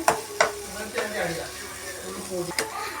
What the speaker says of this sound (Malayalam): നല്ല രീതിക്ക് ഇളക്കി കൊടുക്കണം.